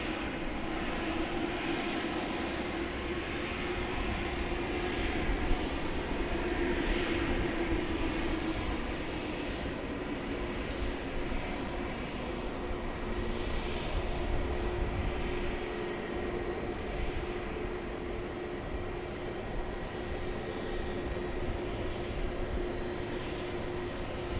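A Fiji Airways jet airliner at Dallas-Fort Worth International Airport at night gives a steady, continuous engine roar with a sustained hum, evenly loud and somewhat distant throughout.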